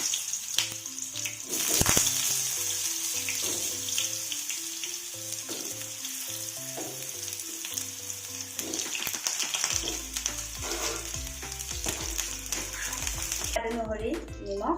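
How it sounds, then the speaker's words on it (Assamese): Cut pointed gourd pieces tipped into hot oil, crackling and sizzling loudly and steadily up close throughout, with a few clinks of a utensil near the end. "তেলখিনি মোৰ এয়া গৰম হৈ আহিলে ইয়াতে মই এতিয়া পটলখিনি যিখিনি কাটি থৈ দিছিলোঁ সেইখিনি ইয়াতে"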